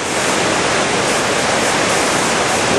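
Coac Falls, a waterfall, pours with a steady, loud, broadband rush of falling water that stays unbroken, with no speech.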